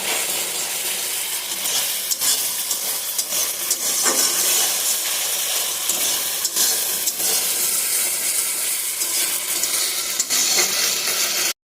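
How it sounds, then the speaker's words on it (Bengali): Spices fry in a pan for a soybean dish while being stirred, producing a continuous loud hissing sizzle with intermittent stirring scrapes and no speech throughout. "সমস্ত মশলা একসাথে ভালো করে কষিয়ে নিই"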